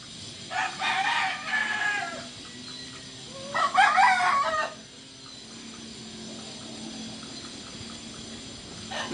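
A rooster crows twice, each call a drawn-out cock-a-doodle-doo with a pause between, fairly close and clear over a quiet outdoor background, with no talking.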